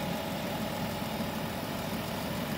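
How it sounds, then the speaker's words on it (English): A Dodge Chrysler car engine idles steadily, a constant low rumble with even vibration and no changes in pitch. "So now I've started the engine. You can see, you can at least hear it, it's running."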